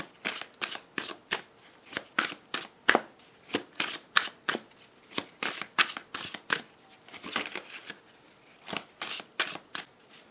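A tarot deck is shuffled by hand in a quiet room, giving crisp, rapid riffles and card slaps in a steady irregular rhythm, close and soft, with brief pauses between bursts.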